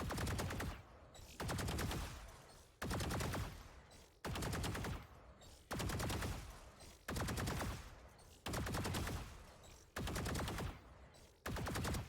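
Bursts of Vandal rifle fire from a first-person shooter video game, about eight sustained volleys roughly a second long each, separated by short pauses, loud and close with no talking.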